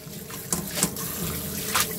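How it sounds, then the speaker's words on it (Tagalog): Cold tap water runs steadily over bean sprouts in a sink, a soft continuous trickle with a few brief splashy bursts as the sprouts are rinsed, close and moderately loud, with no talking. "So, ayan, kailangan banlawan ng malamig na tubig."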